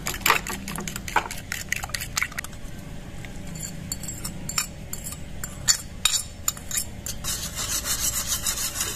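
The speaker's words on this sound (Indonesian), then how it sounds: "pecahkan 1 butir telur, ini dikocok lepas" A beaten egg is whisked in a separate dish for dadar gulung crepe batter, giving a steady run of close, scraping taps and light clinks in irregular rhythm with no talking.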